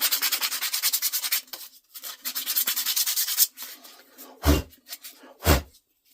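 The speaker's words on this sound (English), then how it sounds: "I'm just taking off the sharp edge." Hand sanding the sharp edge of a scroll-sawn wooden Christmas ornament, quick rhythmic rasping strokes up close, then a pause and a few slower separate rubs.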